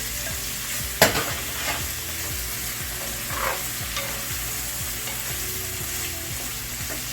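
Cooked pasta shells fry in a hot pan with a steady close sizzle, broken by a sharp clatter early on and occasional soft scrapes of stirring.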